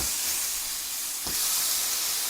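Chicken breast sizzling on a Vevor 22-inch flattop griddle, a loud, steady, close hiss of frying that holds without a break.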